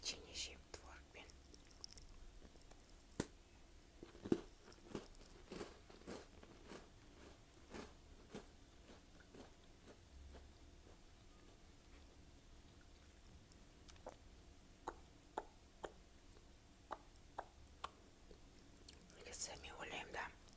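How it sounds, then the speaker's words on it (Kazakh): Cookies eaten with cottage cheese in close-up ASMR, with faint soft crunching and chewing clicks scattered through a quiet, hushed stretch, very near the microphone and low in level. "Қазір енді осындай печенье жеймін творогпен."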